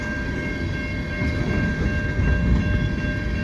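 A long CN freight train rolls past on a snowy, gray day in Montreal, at St Ambroise Street, giving a steady, loud rumble of wagons with a faint tonal hum throughout and no talk.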